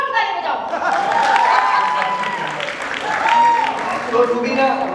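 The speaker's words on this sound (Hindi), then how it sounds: "तो अरे इतनी ठंडी ताली है तो जोर ताली बजाओ।" Audience clapping at a TV show launch event for Pati Patni Aur Panga, a steady burst of applause with crowd murmur and voices mixed in, fairly loud throughout.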